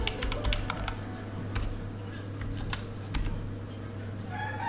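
Fingers type on a computer keyboard while designing in Photoshop, a quick burst of clicking keystrokes at first, then scattered single taps over a low steady hum.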